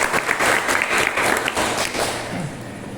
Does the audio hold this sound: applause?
yes